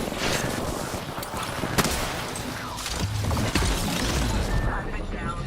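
Rapid automatic gunfire and impacts from an Apex Legends ranked match, sustained bursts with sharp cracks at close range, loud throughout, with a faint game voice line mixed in.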